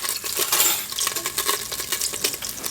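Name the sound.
stirring chicken adobo with soy sauce and vinegar in a pot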